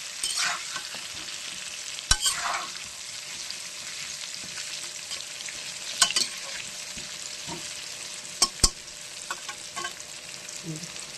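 Mutton frying in a pan until browned gives a steady, soft sizzle, punctuated by a few sharp clacks of a spatula against the pan.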